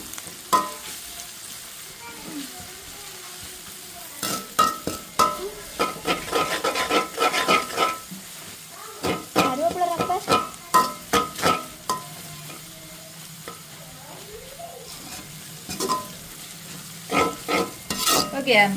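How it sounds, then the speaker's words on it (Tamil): Chopped onion and garlic sautéing in a pan, with a continuous sizzle broken by loud bursts of scraping and stirring against the pan, close and busy. "இது அப்படியே நல்லா வதங்கி கொண்டிருக்கட்டும்"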